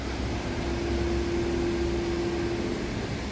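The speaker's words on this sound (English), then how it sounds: "this appears to be the secondary return pump" A secondary return pump running in a boiler room, a loud, steady mechanical drone with a constant tonal hum, close and unbroken, with no voices.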